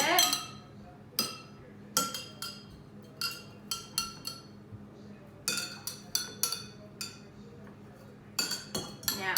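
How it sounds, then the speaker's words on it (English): A spoon stirs coloured water in a drinking glass for a celery science experiment, giving repeated sharp clinks against the glass in irregular bursts. "I'm going to give it a little stir."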